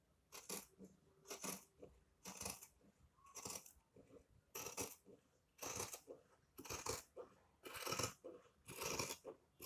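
Fabric being cut with scissors while making a princess dart blouse with a neck yoke, giving about ten sharp, crisp snips in a steady rhythm, heard up close with no talking.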